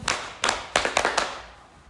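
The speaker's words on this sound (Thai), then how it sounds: "ปรบมือ 5 ครั้ง ปรบให้ดังกว่านี้" Students at a morning school clapping activity clap their hands together five times, the sharp claps coming close and quick in a slightly uneven rhythm, each with a brief room ring.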